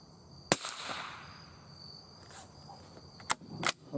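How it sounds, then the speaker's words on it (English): Remington Target .22 LR rifle shots fired at a target outdoors ring out as a few sharp, sparse cracks, fairly near, with a steady insect chirp in the background. "Shooting at the same target."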